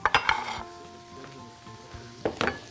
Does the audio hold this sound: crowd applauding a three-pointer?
no